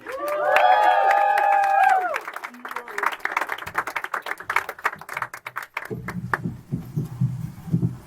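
After a sustained musical tone from a live performance at Third Man Records, an audience breaks into scattered clapping and applause, which thins out as a voice starts talking.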